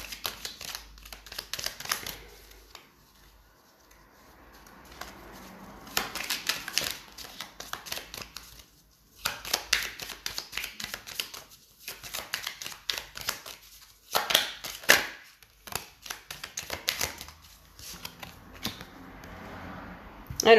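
Oracle cards being shuffled by hand for a reading, close-up riffling, flicking and slapping sounds in irregular bursts with pauses between, fairly quiet overall.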